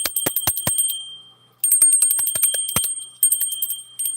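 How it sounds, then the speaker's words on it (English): A small handheld bell rung in two bursts of rapid, bright, close ringing, separated by a brief pause as the ring fades out, with no talking. "Should I ring the sound ball or should I do the bell today? Let's do the bell."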